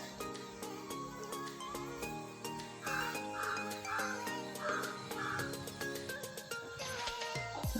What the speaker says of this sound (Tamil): பேக்ரவுண்ட் மியூசிக் வந்து காக்கா கத்திக்கிட்டு இருக்கு